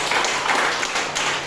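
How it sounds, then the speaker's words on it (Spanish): Brief, dense clapping from a church congregation, a loud and close burst of many hands that is steady throughout with no talk over it. "Un aplauso al Señor"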